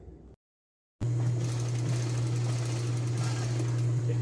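After a brief silence, a sewing machine starts and hums continuously at a steady pace, its needle chattering evenly while sewing a French seam on a blouse.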